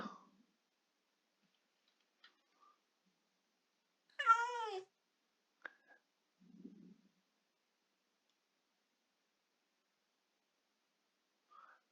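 A Minecraft cat gives one short, clear, rising-falling meow in an otherwise near-silent game scene, with a few tiny clicks and a soft low rumble nearby.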